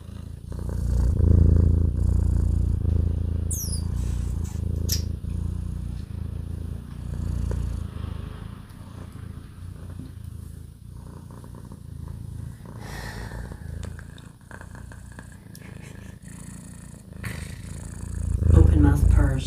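House cat purring with its mouth open, a close, rumbling low purr running steadily for about twenty seconds, with faint background sounds and a louder swell near the end.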